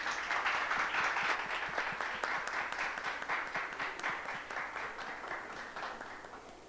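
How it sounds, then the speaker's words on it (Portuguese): A seated audience at a panel on data security and protection gives sustained applause for the speakers, dense clapping that holds steady for several seconds before tapering slightly toward the end, with no voices over it. "Queria agradecer e pedir uma salva de palmas aqui para o Matheus e para a Mara."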